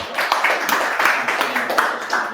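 Audience applause during a business podcast, a short burst of rhythmic clapping from a small group, moderately close and even throughout.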